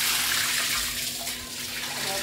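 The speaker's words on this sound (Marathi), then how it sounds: "आता मी मासे सगळे धुवून घेते, चांगल्या पाण्याने मोठ्या भांड्यामध्ये धुवून घ्यायचे" Water runs and splashes steadily as cut chilapi fish are washed in a large pot, a continuous broadband wash of pouring and sloshing close by with no pauses.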